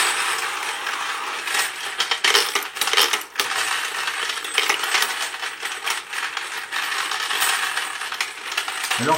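A Dillon XL650 reloading press cycles 40 S&W cases with continuous metallic rattling, clinking and ratcheting of brass and mechanism, dense and fairly close.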